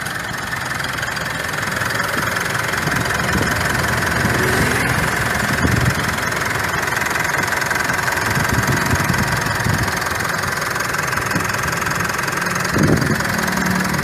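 A Mitsubishi Pajero Sport Dakar (2018) engine idles close by, a steady even rumble with a faint knocking texture, running continuously with no voices.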